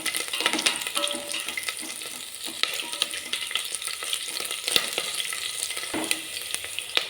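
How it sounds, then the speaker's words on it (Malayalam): A green chilli frying in hot oil in a pan, added after garlic, for a green peas curry. A steady sizzle runs throughout, with occasional stirring clinks and scrapes. "ഒരു പച്ചമുളക് ഇതും കൂടി ചേർത്ത് കൊടുക്കുന്നുണ്ട് നമുക്കിതൊന്ന് മൂപ്പിച്ചെടുക്കാം"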